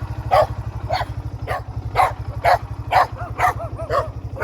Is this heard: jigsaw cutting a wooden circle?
no